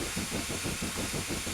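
A steam locomotive works hard uphill in the Railworks 3 train simulator on the Elsecar Heritage Railway. Its chuffs come as a steady, rapid rhythmic beat over constant steam hiss and rumble, close and continuous.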